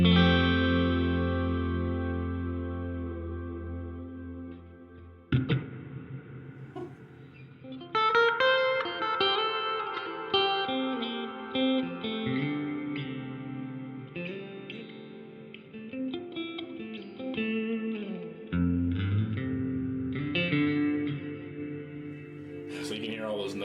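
Guitar notes run through a Donner delay and reverb pedal with both effects turned fully up, so they ring out into long, washy, overlapping trails that hang and build across the whole stretch.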